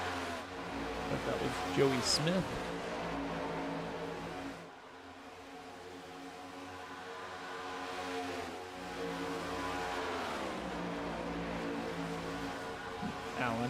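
Race cars in the iRacing video game at Talladega drone steadily under the lap car, engine harmonics rising and falling over a continuous roar while a commentator talks throughout.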